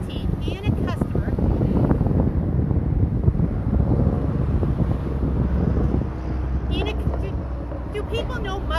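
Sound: loud vehicle without a muffler passing by

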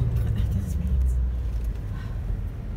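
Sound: Land Rover Discovery driving

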